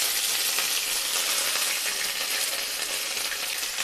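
Ginger paste with whole garam masala, bay leaves and dried red chillies sizzling in hot oil, a loud, close, continuous crackling hiss without pause.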